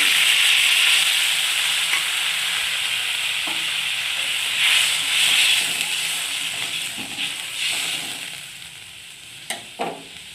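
Water poured into a pan of oil-fried turmeric and chili spices sets off a loud, hissing sizzle that gradually settles into a softer bubbling simmer, with occasional clinks of stirring near the end.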